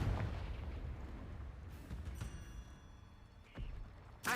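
A Confringo blasting spell fires in Hogwarts Legacy and sets off booming explosions, followed by a rumbling tail and a second burst near the end.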